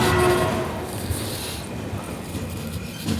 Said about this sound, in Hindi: सो अभी हमारी ट्रेन बढ़ रही है